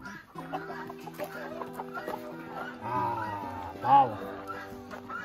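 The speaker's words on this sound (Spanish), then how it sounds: "Este gallito es lindo" A rooster clucks at a rooster farm in Ponce, Puerto Rico, with several close, harmonic calls rising to a louder squawk near the end, while people talk in the background.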